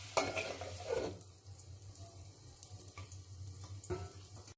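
A spatula stirs baby potato fry in a pan, a few scraping strokes over a soft, low sizzle, fairly quiet with no talking.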